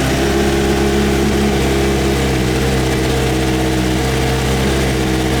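A 2027 Suzuki GSX-R1000 motorcycle engine runs on a dyno, giving a loud, close, sustained drone at a steady pitch throughout, with no talk over it.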